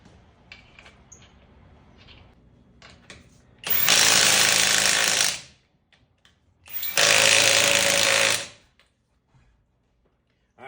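A Somada cordless impact wrench removing very rusty lug nuts, two loud close bursts of buzzing hammering, each about one and a half seconds long, separated by quiet with faint handling noises.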